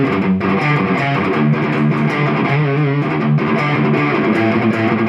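A loud distorted riff played through an effects unit, a dense, sustained tone with shifting notes over several seconds and no voices.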